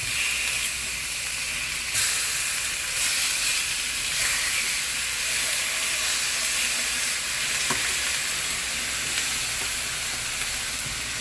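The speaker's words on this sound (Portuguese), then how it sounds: "Eu deixo eles todos em contato com a frigideira, pra eles ir dourando igual" Pieces of food fry in hot oil in a frying pan, spread flat so each touches the pan, giving a loud continuous sizzle and crackle with occasional sharper pops, heard close with no talking.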